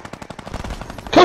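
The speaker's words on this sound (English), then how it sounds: "There's loads of gunfire here." Rapid automatic gunfire from Fortnite Battle Royale rattles in a fast, even burst of about a dozen loud shots, followed by a sharper, brighter blast at the very end.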